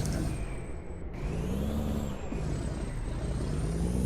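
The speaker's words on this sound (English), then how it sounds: "Ooh, I braked a little bit harder than I was expecting." A Peterbilt 378 truck in American Truck Simulator brakes hard, a steady loud engine and road drone with a rising tonal whine that lasts throughout, no talk over it.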